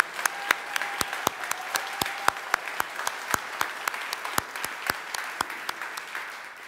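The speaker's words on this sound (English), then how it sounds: "let's give them a round of applause" Audience applause for a company's board members as they stand at a communications industry event, steady clapping from a crowd with sharp individual claps standing out near and loud throughout.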